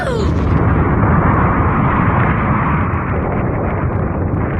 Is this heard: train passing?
no